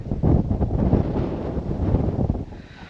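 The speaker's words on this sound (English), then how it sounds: "It is super windy anyway." Strong wind on open loess hills buffets the microphone with a steady low roar and gusty rumble for the whole stretch, easing slightly near the end.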